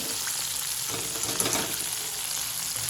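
Crispy chicken strips fry in a pan over low heat, giving a steady, dense sizzle and crackle that holds evenly throughout, close and continuous with no talk.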